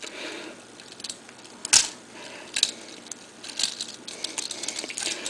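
Small plastic clicks and snaps as the scorpion legs of a Beast Wars Scorponok toy are folded back down, a few sharp close ticks scattered over a faint background hiss, with no voice.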